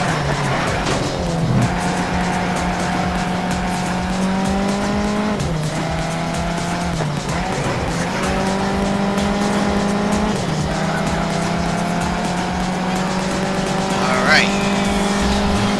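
Race car engines in the Need For Speed SHIFT video game drone steadily through a timed lap event, with revs rising and dropping at gear changes and a brief tire squeal near the end, while a voice talks over the action.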